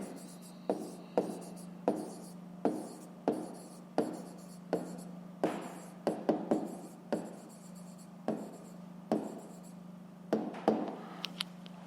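A pen writes out the answer to a fifth-grade maths exercise on paper, a string of short close scratching strokes in a fairly even rhythm over a faint steady hum, with no voices.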